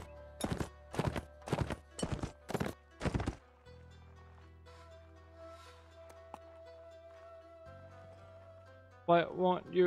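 Five or six sharp hoof clops in quick rhythm from a lame horse in the game Mount & Blade: Warband with the Gekokujo mod, then a quiet sustained tone, followed by a voice speaking near the end.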